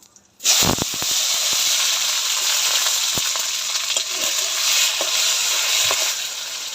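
Whole spices (cardamom, cumin, cinnamon, dried chilli) and tomato fry in a pan with a loud, steady hiss that starts abruptly after a brief silence, with occasional stirring clicks throughout; no talking.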